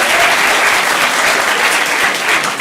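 An audience at a stand-up comedy show gives a couple a round of applause, a dense and loud steady clapping that fills the room without a break.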